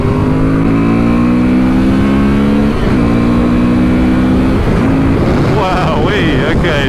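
A 2024 Honda Transalp 750 motorcycle engine revs hard, the pitch climbing and dipping through several throttle blips, loud and close, with wind and road noise building toward the end.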